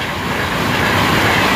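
A Class 390 fast train roars through Nuneaton station, a loud, dense rushing wash of wheel and air noise filling the whole moment close by, with no talk over it.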